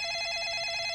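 Telephone ringing in a comedy film scene, a bright, steady electronic trill with a rapid warble, loud and alone for about a second.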